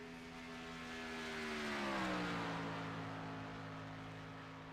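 Race car on a qualifying hot lap at Daytona in a racing video game: a steady engine drone swells to a peak and its pitch drops as it passes, then fades slightly, with no talk.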